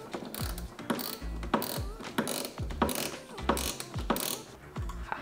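Repeated ratchet clicks from a wrench loosening a starter motor bolt on a BMW E46 with an N42/N46 engine, several short bursts of close, steady pawl ticking in an engine bay.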